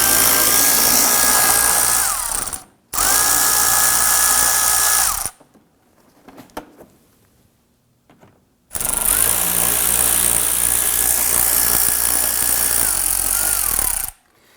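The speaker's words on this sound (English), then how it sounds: "We're going to use our 7mm socket to loosen and remove these screws." A 7mm socket on a power tool loosens and removes screws from the fender liner of a 2008-2011 Ford Focus 2.0L: three loud, buzzing whirring bursts with a brief whining pitch, separated by quiet gaps with faint handling noise.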